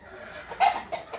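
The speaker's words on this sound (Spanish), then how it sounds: "¿Cuántas gallinas hay aquí?" Hens in a coop give a couple of short, close clucks, one louder and one briefly following, over quiet background.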